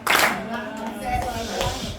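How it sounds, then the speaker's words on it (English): A short burst of clapping for a speaker in a gathering, a quick round of hands slapping together with voices talking over it. "Give her a round of applause."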